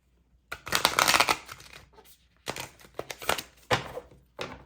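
Tarot cards are shuffled in three quick riffling bursts, crisp flapping and clicking with short pauses between, close up.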